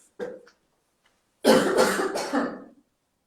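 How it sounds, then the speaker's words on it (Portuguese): A short cough, a pause, then a harder burst of several rough coughs close to the microphone. "perdão pelo ataque de tosse"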